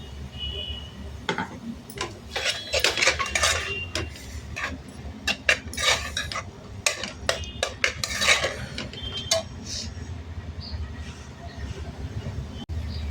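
Greens with ground peanut paste being worked in a pot for a traditional Khandeshi dill and spinach dish, giving steady clanking and scraping of a utensil against cookware, with busy clatter throughout and no talk.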